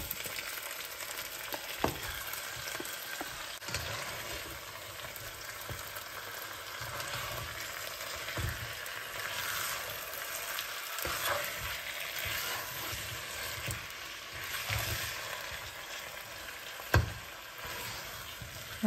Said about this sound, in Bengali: মশলাগুলো যখন ভাজা ভাজা হয়ে আসবে তখন এতে দিয়ে দেব আগ থেকে ম্যারিনেট করে রাখা চিকেন।